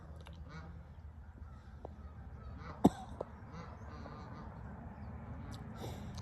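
Baby geese at a park give faint, intermittent calls over a quiet outdoor hum, with one brief louder call partway through and sparse, distant bird sounds around it.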